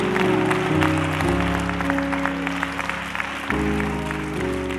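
Church congregation clapping hands in praise, a continuous wash of applause layered over sustained organ chords that shift a few times, steady and fairly loud.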